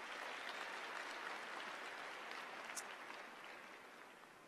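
An audience at a university ceremony applauds, a continuous fairly quiet wash of clapping from a large room that tapers gently over about four and a half seconds.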